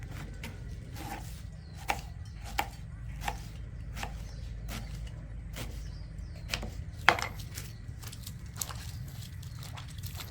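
Wild banana blossom is sliced with a knife on a chopping board, a series of close, crisp, evenly spaced cuts over a low steady background hum, with no talk.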